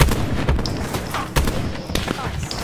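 Sniper rifle shots ring out during a Black Ops 4 match, sharp cracks near 0.0, 0.5 and 1.4 seconds, with game noise and voices running under them throughout.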